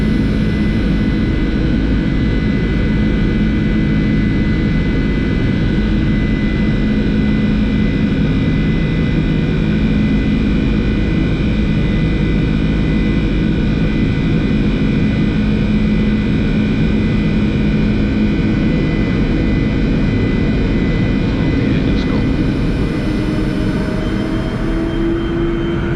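Boeing 747-400 jet engines on takeoff from Mumbai, heard from inside the cockpit as a loud, continuous roar with steady tonal whine, unchanging throughout and without talk.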